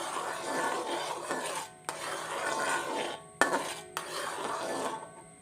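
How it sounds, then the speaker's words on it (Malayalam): Ground raw papaya being stirred and sautéed in ghee in a pan over high flame, with a continuous close scraping and rubbing of the spoon against the pan, broken by a few brief pauses and sharp knocks. "അരച്ച പപ്പായ ഈ നെയ്യിലേക്ക് ഇട്ട് കൊടുത്ത് നന്നായിട്ടൊന്ന് വഴറ്റിയെടുക്കാം"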